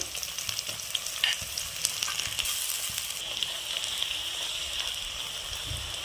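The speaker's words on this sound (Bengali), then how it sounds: "পেঁয়াজ হালকা ভাজা হয়েছে" Chopped onions crackle and hiss in oil with whole spices (cardamom, cloves, peppercorns, cumin), a steady, bright frying sizzle heard up close, with an occasional light stir.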